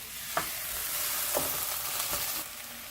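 Potatoes and fenugreek leaves for methi aloo sizzle steadily in a pan, with a few soft stirring scrapes breaking through the constant frying hiss.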